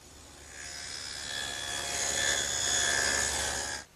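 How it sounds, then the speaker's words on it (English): A table saw cutting a dado in oak for a workbench, the blade's steady whine rising as it bites into the wood, then abruptly dropping away as the cut ends. "And I'll do that over on the table saw."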